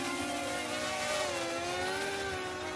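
A drone's motors whir as it takes off in gusty wind, a steady high buzzing whine with gliding pitch, close and continuous, with no talk.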